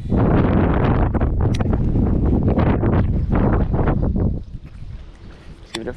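Strong wind blowing at the shoreline of a pond while bass fishing, a loud steady rumble of wind buffeting the microphone that eases off near the end.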